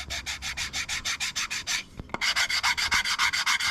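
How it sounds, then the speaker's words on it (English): Rhythmic rubbing strokes of abrasive on wood, lightly chamfering the corners of a wooden desk tidy, a steady back-and-forth rasp repeated many times, briefly pausing with a couple of knocks before resuming. "just do a light chamfer around all the corners"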